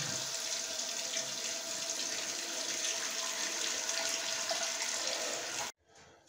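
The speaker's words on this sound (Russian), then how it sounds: "Наполняем бачок." Steady rush of water running from a tap into a toilet cistern, continuous and close, stopping abruptly near the end.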